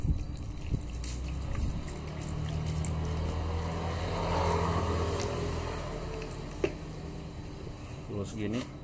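Water is poured into a container while mixing a soap solution, a soft continuous trickle and splash heard close by beneath a person talking.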